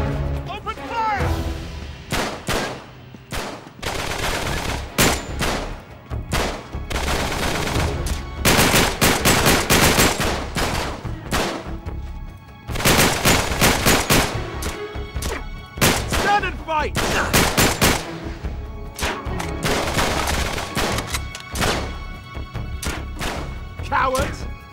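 Gunfire in the Uncharted 3 video game: dense bursts of automatic fire and single shots in long loud volleys with brief lulls, thuds and impacts mixed in, voices shouting faintly beneath.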